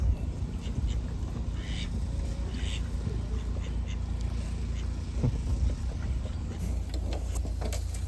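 A duck near an inflatable Itiwit X100 kayak on open water, quacking faintly amid steady wind and water noise, with a voice speaking briefly.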